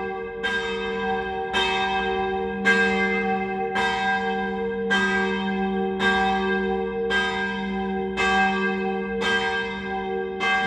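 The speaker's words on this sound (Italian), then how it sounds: "questo è il suono delle campane." Church bells of the Sant'Antonio sanctuary in Gemona ringing at noon, with loud, evenly spaced strokes roughly every second that ring on and overlap, with no voices.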